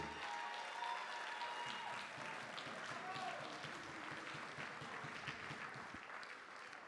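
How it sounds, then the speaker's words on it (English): Wedding guests break into a sustained round of applause, a dense continuous wash of clapping that carries on evenly, heard fairly faint and at a distance, with voices faintly mixed into the crowd. "Everybody give a round of applause to just like this day."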